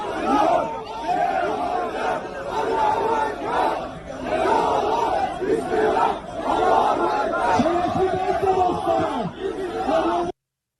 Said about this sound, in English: Now to Turkey, where a large crowd gathered near the Israeli consulate.